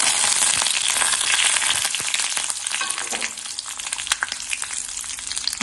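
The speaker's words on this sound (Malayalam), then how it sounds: "കടുക് പൊട്ടുന്നുണ്ട്" Mustard seeds crackle and pop in hot oil with curry leaves and dried red chilli, a dense sizzle with sharp snapping bursts throughout, close and steady.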